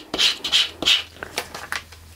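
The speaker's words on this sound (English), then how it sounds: "Burnish it down well" Vinyl being burnished onto transfer tape for a two-layer coaster design, heard as several short, close rubbing scrapes in quick strokes with brief pauses between them, and no one talking.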